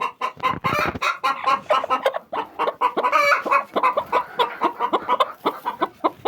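Leghorn hens cluck and murmur continuously nearby, a busy overlapping chorus of short clucks with no talking.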